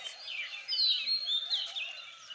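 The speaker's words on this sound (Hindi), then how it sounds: "पक्षियों की आवाज़ें आप सुन रहे होंगे" Several birds chirp and sing in the early dawn around 5 am in calm weather, with bright overlapping calls and tweets that rise and fall continuously at moderate, fairly distant level throughout.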